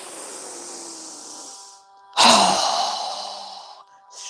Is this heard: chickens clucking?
no